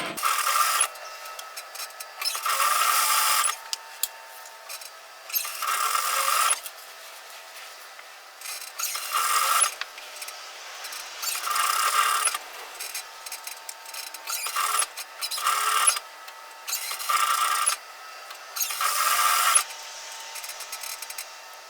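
A sewing machine stitches bib overalls in bursts of fast, steady whirring, with short pauses between runs and small clicks as the fabric is turned and pivoted.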